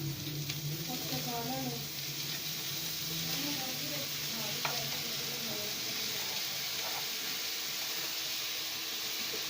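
Chopped tomatoes tipped into browned onions in a pot, giving a soft continuous sizzle and hiss with a few faint stirring knocks, a voice talking over it early on.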